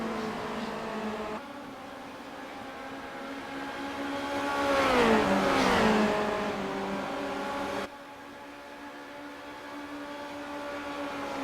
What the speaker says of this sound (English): Big 151 in seventh gear for Brad Yeager, before he has to slow it up